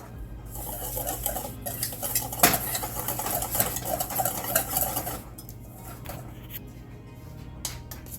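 A spoon or whisk stirs salt and sugar into flour for southern hoe cake batter, scraping and clinking steadily against a bowl, with a louder knock near the middle and lighter taps toward the end.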